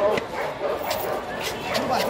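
A few sharp dog barks ring out at a busy weekly dog market, scattered and fairly close, under steady conversation among the people nearby.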